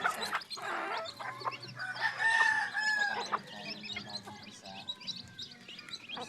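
Chickens cluck and chirp in a busy coop, with a rooster-like crow rising in the middle and small peeps from newly hatched chicks scattered throughout, fairly close.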